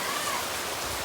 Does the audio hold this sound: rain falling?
yes